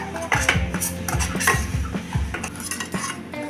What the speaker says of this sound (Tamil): இப்போ இதே நெய்யில் 1 கப்பு ரவா போட்டு வறுத்துக்கலாம்.